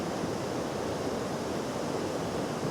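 A debris flow rushing down the Saint-Julien mountain torrent makes a steady, dense roar of churning water and sediment, heard close and continuous with no voices.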